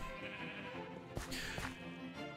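A sheep in the Minecraft video game gives a couple of short bleats over steady game background sound, with no talking.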